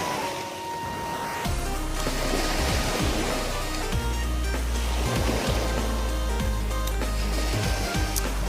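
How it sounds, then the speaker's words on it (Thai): Water from a dam runs down a channel toward the sea, a steady rushing flow with scattered low thumps and splashes, continuous and fairly close. "นี่ครับน้ำไหลมาตามร่อง"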